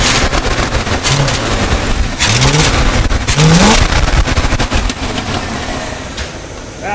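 The engine of an old tow truck, around forty years old, revs up hard several times in a row, each rise climbing sharply before falling back, loud and close over a rough, rumbling idle.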